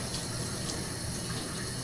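Water pours steadily during a dog's bath, a continuous close rushing and splashing stream with no speech over it.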